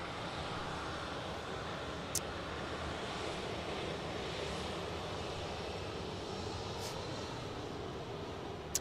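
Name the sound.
airplane taxiing out at Dallas Love Field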